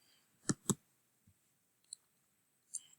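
Mouse clicks on a computer: two sharp, close clicks in quick succession, then a few fainter, isolated clicks spaced apart in a quiet room.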